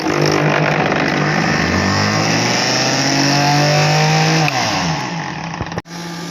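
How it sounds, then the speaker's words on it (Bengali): A kitchen mixer grinder blends watermelon into juice, a loud steady motor whine running continuously, then slowing and cutting off near the end. "এইবার আমি মিক্সিতে পেস্ট করে নিলাম"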